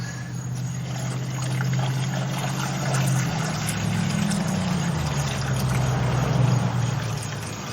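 Liquid pours steadily into an old rusty gas tank from a 1956 chop-top oval VW Beetle, a continuous trickling rush over a low droning hum, loud and close, no voices.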